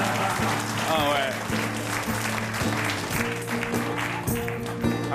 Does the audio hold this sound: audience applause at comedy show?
yes